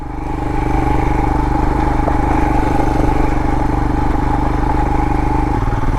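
2022 Royal Enfield Himalayan motorcycle engine pulling steadily up a desert pass in southwest Utah, a loud, close, even single-cylinder thump with a faint clatter that shifts pitch briefly near the end.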